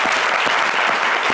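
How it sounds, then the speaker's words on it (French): Studio audience at a French television show applauds loudly and steadily, dense clapping filling the whole brief stretch with no voices over it. "je peux sentir vos applaudissements"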